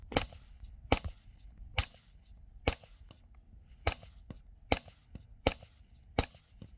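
Single sharp gunshots from a Tommy Built T7 rifle with a 40-round magazine ring out at a steady, roughly one-per-second pace, about eight loud cracks with quiet gaps between them.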